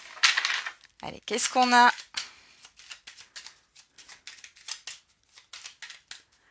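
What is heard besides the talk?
shuffling tarot cards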